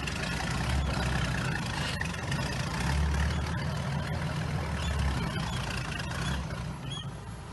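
A restored Nashorn tank destroyer's engine runs steadily while the vehicle drives a short distance with its gun fitted, a continuous low heavy rumble with no speech.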